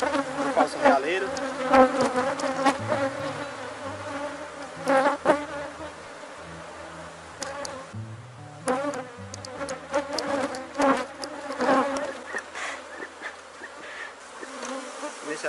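A honeybee swarm buzzes in an open hive, a dense, continuous close-up drone with bees whirring in and out of nearby range, and a faint voice at times underneath.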